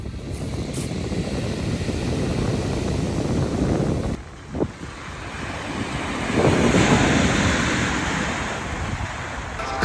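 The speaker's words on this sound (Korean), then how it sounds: "저 돌에 쓸려 내려가는 저 물소리가 엄청" Seawater washing over and draining back through the stones of a pebble beach on Geoje Island, Korea. The steady rushing surf swells and recedes close by, with gusts of wind buffeting the microphone.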